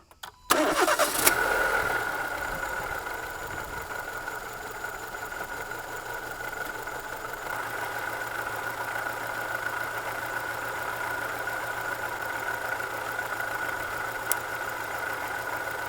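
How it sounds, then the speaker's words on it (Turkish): A Renault Megane 2 engine with a faulty ignition coil cranks and starts, then runs at a rough, uneven idle for the rest of the clip, heard close and steady with no talk. "Bobin arızasında motor bu şekilde çalışıyor."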